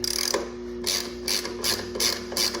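A socket wrench with a 12-point socket ratchets on brake caliper bolts during a brake pad replacement, giving several short bursts of clicking with brief pauses between them, close by and with no talk.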